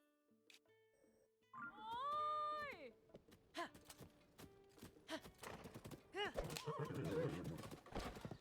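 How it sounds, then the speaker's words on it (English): A horse in a Legend of Zelda video game gives a loud, rising and falling whinny, then hooves clop and clatter in quick uneven steps, close and clear against a quiet background. "Look how fucking big this horse is."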